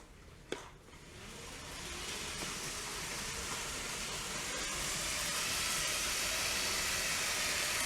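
A small Lego 9V toy train rolls along the outer loop of its track with a steady, gradually building whirring hiss, preceded by a brief click near the start; no voices.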